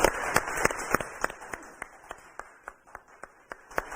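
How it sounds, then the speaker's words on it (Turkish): Audience applause in a Turkish TV studio during a music show, heard as a dense burst of clapping that thins into scattered, fairly regular claps over a few seconds. "Alkışlar"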